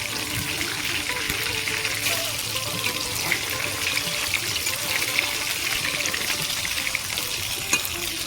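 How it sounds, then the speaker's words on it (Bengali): Amudi fish pakoras fry in hot oil with a steady, close bubbling sizzle and occasional crackles, and no one speaks. "তেল গরম হয়ে গেছে এবার আমি এইভাবে ভেজে নেব"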